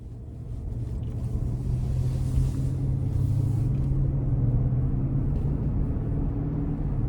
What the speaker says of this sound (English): I am going to give it something just so y'all can hear the engine